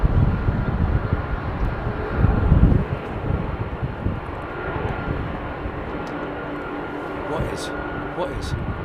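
An airliner rotating on takeoff at London Heathrow gives a loud rumbling engine roar that peaks early and then eases into a steadier, fainter drone, with a few brief clicks near the end.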